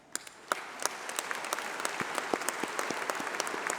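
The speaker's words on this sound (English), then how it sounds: "please stand up as we give you a round of applause" Audience applause at a UCLan university graduation ceremony, a dense, steady patter of many hands clapping that swells in from the start and holds at moderate loudness, with individual sharp claps standing out near the front.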